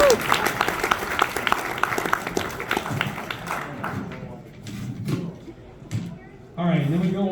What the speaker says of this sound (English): Have a round of applause for all those drivers.